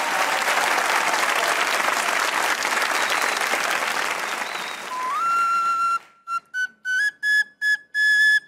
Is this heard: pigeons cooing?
no